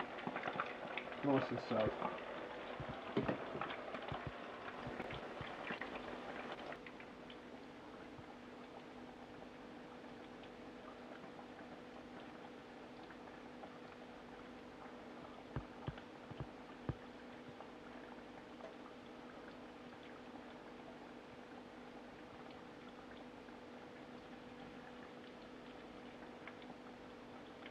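Smoked trout hot cakes deep fry four at a time in oil on a stovetop element, a soft steady bubbling hiss with a louder burst of sizzling at the start and a few faint clicks, under brief talk.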